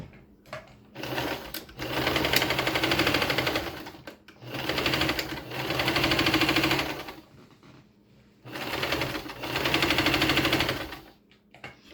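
Sewing machine running straight stitches in three long, loud bursts of rapid whirring and clatter, each lasting a few seconds, separated by short pauses with small clicks.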